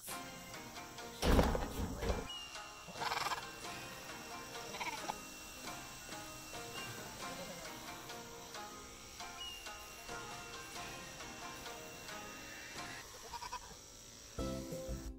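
Goats bleat on a farm while being clipped for county fair preparation, a few loud close calls near the start over a steady background hum and scattered farmyard noise.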